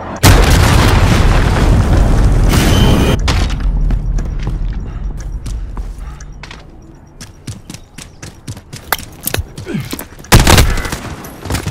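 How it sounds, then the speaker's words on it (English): A huge explosion from an enemy cruise missile strike in Call of Duty: Modern Warfare, a loud sustained roaring blast that fades into scattered crackling gunfire and sharp pops, with a late heavy burst near the end. "enemy cruise missile incoming!"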